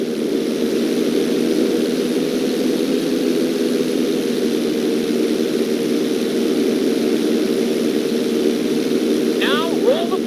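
Propeller airplane engine droning steadily in GTA 5 flight school during stunt rolls, a continuous loud hum throughout with a brief higher whine near the end, no talking.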